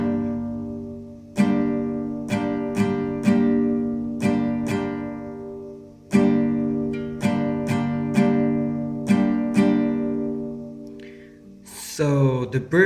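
An acoustic guitar is strummed with single downstrokes for the bridge of a song, in an uneven, sparse pattern, each chord ringing out before the next, followed by a brief scrape at the end.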